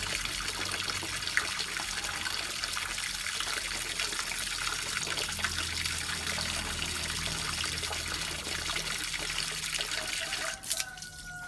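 Water runs and trickles steadily during an aquarium water change, a constant close splashing stream that continues throughout and ends with a brief knock near the finish.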